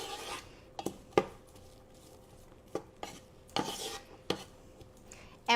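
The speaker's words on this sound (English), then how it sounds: "Mix the oil, the garlic, and the onions together." Oil, chopped garlic and onions stirred in a pot on the stove, with a soft continuous scraping broken by several sharp clinks of a utensil against the pot, close and fairly quiet.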